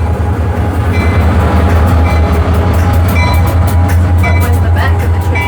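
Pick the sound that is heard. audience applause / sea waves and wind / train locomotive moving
train locomotive moving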